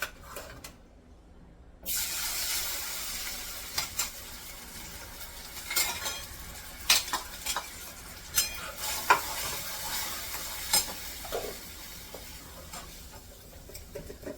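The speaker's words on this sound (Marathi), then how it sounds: "मिरची जिरं आणि शेंगदाणे वाटलेत हे आता तेलामध्ये टाकणार सगळं फोडणीला" A tempering of ground chilli, cumin and peanuts hits hot oil with a sudden hiss. It settles into a quieter sizzle broken by scattered crackles and the scrape of a stirring spoon.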